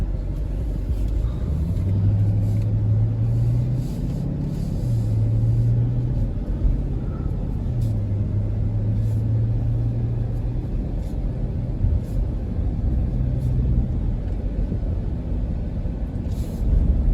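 A Dodge Durango SRT on the move, heard from inside as a low, steady engine rumble with deep droning tones that rise and settle a few times over road noise, no talking.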